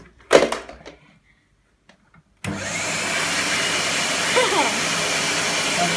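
A 1996 Numatic Henry vacuum cleaner, freshly washed, starts up with a sudden burst and then runs as a steady, loud whine, preceded by a few clicks and knocks.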